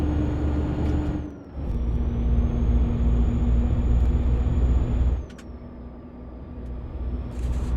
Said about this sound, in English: The engine sound for this truck is standalone.